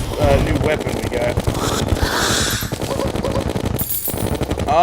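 The Minishark gun in the video game Terraria fires a loud, rapid, unbroken stream of shots for several seconds, with other game sound effects mixed in.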